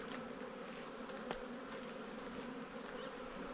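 Honeybees buzzing around a hive inside a storm-felled tree, a steady dense hum of many insects, faint and continuous throughout, with no voices.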